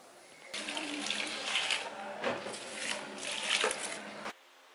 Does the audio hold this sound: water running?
yes